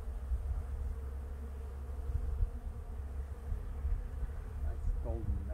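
Honeybees buzz steadily during a hive inspection, a close, continuous low hum with individual bees drifting nearer and away.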